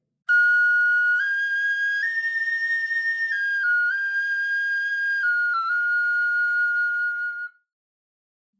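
Tin whistle playing a melody from a video game theme in its upper octave, clear sustained notes stepping up and down for about seven seconds, solo and close, then silence.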